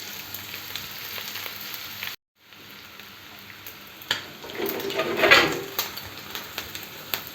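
Onions sauté with chicken gizzards in a pan, giving a moderate sizzle with a brief cut in the sound, then louder stirring and frying noise rising toward the end.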